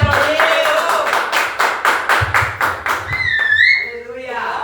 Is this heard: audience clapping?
yes